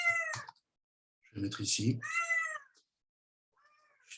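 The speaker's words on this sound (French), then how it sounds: "C'est le chat." A house cat meows indoors, a few short, plaintive cries at the start and end with someone speaking French in between.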